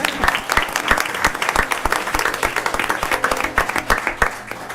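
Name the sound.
council meeting audience round of applause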